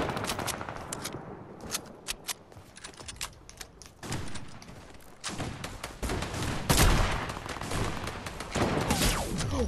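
Gunfire from the Fortnite video game: sharp single shots and rapid bursts ring out against a quiet background, growing denser and louder into sustained automatic fire in the second half.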